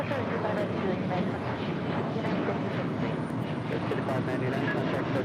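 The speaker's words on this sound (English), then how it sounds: "That was United Express 5599 departing to Austin on E175" A United Express Embraer E175 taking off from runway 25 right at LAX, a broad roaring jet rumble that holds steady and loud throughout, with a voice talking over it.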